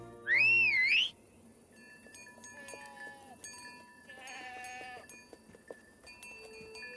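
Young goats in a Heidi cartoon bleat. A sharp whistle-like cry opens the scene, and a wavering bleat follows a few seconds later over a quiet background.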